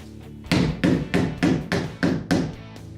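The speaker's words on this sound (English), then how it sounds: "You may need to use a hammer to make sure it's properly in the pocket." A hammer taps a Hyfax strip into a molded pocket on an Otter XT Crossover ice shelter, seven sharp, evenly spaced blows close up, each with a brief ringing decay.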